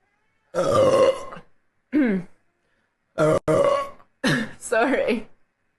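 Several loud, close human burps in quick succession, each a short gurgling belch separated by silences, with a voice speaking between them.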